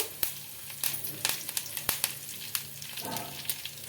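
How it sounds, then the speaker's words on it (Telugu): Cumin, mustard seeds and curry leaves sizzle in hot oil, giving a steady close frying hiss broken by sharp pops and crackles, with a brief stirring scrape toward the end. "ఇప్పుడైతే మనకు ఆయిల్ అయితే హీట్ అయిందండి జీలకర్ర ఆవాలు అలాగే కరివేపాకు"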